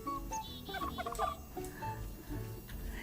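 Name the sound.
bird singing in Luma Island video game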